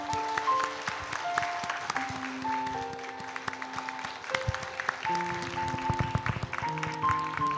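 A church congregation applauds a retiring pastor with sustained, dense clapping throughout, while sustained organ or keyboard tones play underneath.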